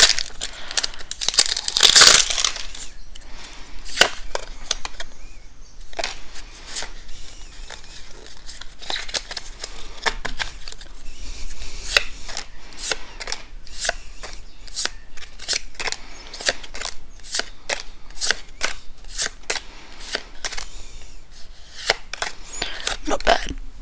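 A Pokémon card booster pack from a Pikachu and Eevee V Power Tin is torn open, with sharp crinkling foil and a long run of fast card flicks and shuffles, close and busy throughout.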